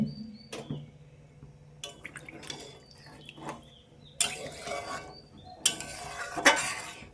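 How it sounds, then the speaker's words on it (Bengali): Water poured into a pan of spiced potato and cauliflower curry, two short hissing, splashing bursts near the end after quiet clinks and scrapes of utensils, close and without talking. "এখন দিয়ে দেবো জল।"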